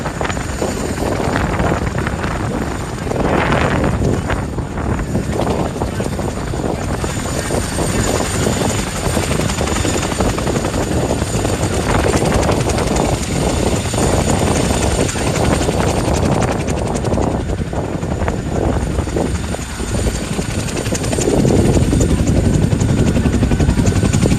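Blackhawk helicopter with Montana National Guard near Helena, blades turning during a ride: a loud, steady rotor and turbine roar fills the whole span with wind buffeting, swelling slightly near the end.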